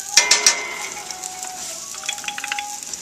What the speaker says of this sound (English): See how they're sauteing in there?